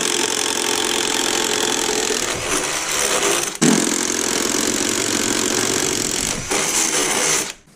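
A drill driving a 5/8 inch spade bit into wood for 1/2 inch PEX pipe inside a skoolie, a loud steady whirring grind with a brief pause partway, then winding down at the end.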